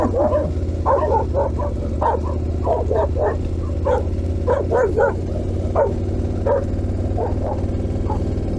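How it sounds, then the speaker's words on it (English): Several dogs bark and yip in repeated bursts at a passing KTM 1290 Super Adventure motorcycle on a Balkan road, the steady engine drone running underneath throughout. "whoa, the dogs"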